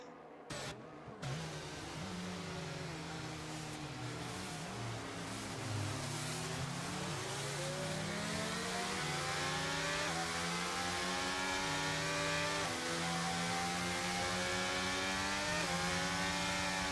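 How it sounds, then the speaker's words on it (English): F1 racing-sim safety car on the Montreal circuit, its engine note climbing steadily as it picks up speed, loud and continuous with layered rising harmonics from other cars in the pack, no talking. "Safety car picking up speed here in Sector 3."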